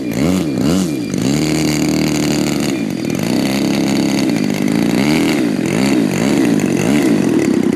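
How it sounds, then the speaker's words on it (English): A Turnigy TP31-T 31cc twin-cylinder gas engine on a model airplane runs loud and close, a buzzy continuous drone that rises and falls as the throttle is worked. "This was just to hear the engine"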